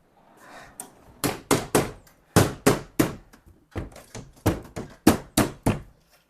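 A hammer strikes parts of a Begode Extreme electric unicycle during assembly, delivering about fifteen sharp, close thuds in uneven clusters of two or three blows separated by short pauses.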